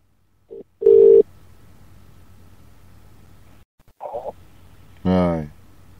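Telephone tones sound on a phone line during a late-night live call-in show: a short beep, then a louder steady tone, with later brief tonal bursts and a voice-like sweep, against quiet line hiss.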